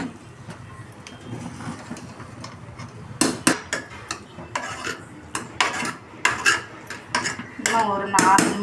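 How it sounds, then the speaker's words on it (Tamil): Tomato rice being stirred in a pot over low heat, with a spoon scraping and clinking against the metal in a string of short, irregular knocks and scrapes that come up close and fairly loud, with no talking. "லைட்டாக கொஞ்சம் கிண்டி விட்டுருவோம்."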